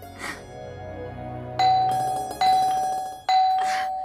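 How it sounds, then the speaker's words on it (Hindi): A house doorbell rung three times in quick succession, each chime ringing out clearly and decaying before the next press, with a brief faint sound before the first ring. "कौन है जो घर की घंटी को मंदिर की घंटी की तरह बजाए जा रहा है?"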